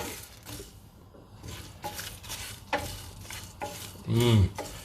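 Spices roast and get stirred in a pan for a South Indian goat curry, soft scraping and stirring strokes with light sizzle, a few louder scrapes and a clatter near the end, fairly quiet and close.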